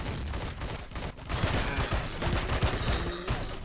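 Rapid, dense gunfire rattles on without pause in the space game Empyrion Galactic Survival, with loud overlapping bursts of shots and no speech.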